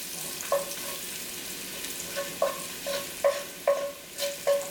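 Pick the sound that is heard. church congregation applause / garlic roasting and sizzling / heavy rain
garlic roasting and sizzling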